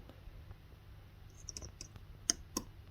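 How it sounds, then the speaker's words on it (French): Small faint clicks come from a button being pressed on a gas meter sensor, a few light taps with two sharper clicks near the end in a quiet room. "on va regarder ce qui se passe quand on appuie sur le bouton"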